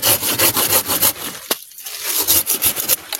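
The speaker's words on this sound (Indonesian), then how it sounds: "Harus gunakan gergaji" Hand saw cutting through a coffee tree branch during pruning, a steady run of rasping back-and-forth strokes with a brief pause midway before the sawing resumes, close and loud.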